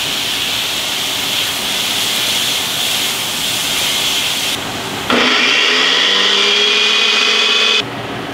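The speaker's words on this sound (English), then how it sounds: "to blend this up a little bit more because it does have some large chunks of tomato in it" A blender whirs through chunky tomato sauce, a loud steady motor roar that shifts pitch partway through, rising to a higher whine before cutting off near the end.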